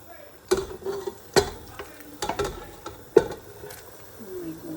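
Fenugreek leaves tossed into potatoes frying in a pan for aloo methi give a series of sharp scraping stir strokes over a soft sizzle, spaced about a second apart.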